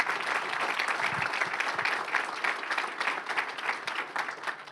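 Sustained audience applause at a school board business meeting, a dense, steady wash of many hands clapping throughout with no speech over it.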